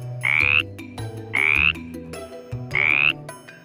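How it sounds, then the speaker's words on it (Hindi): Frogs croaking beside a forest stream at night, three loud rising calls repeating about every 1.3 seconds over a low continuous background chorus. "नाले में के मेंढक चिल्ला रहे थे।"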